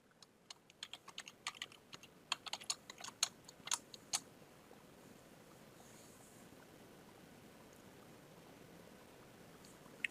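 Typing a username on a computer keyboard: a quick burst of crisp keystrokes over about four seconds, close and fairly quiet, followed by a low steady hiss.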